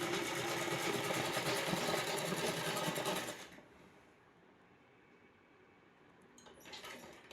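Sewing machine running steadily for about three seconds while stitching pleats on a plain frock, loud and close, then stopping, leaving quiet room tone and a brief faint rustle near the end.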